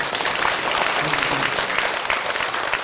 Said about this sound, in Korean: 박수 치고 아멘.